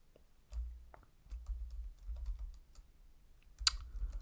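Keys are tapped on a computer keyboard while C code is written, producing irregular bursts of clicks with short pauses between them, close and fairly quiet, with no talking.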